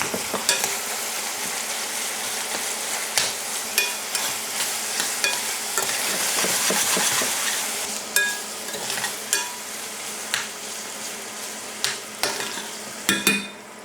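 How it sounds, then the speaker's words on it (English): Steady, crackling sizzle of veal and pancetta frying in a pan for bolognese, with occasional sharp pops and spatters rising above the continuous hiss. "Once it switches from boiling to sizzling, you know you can add a bit more."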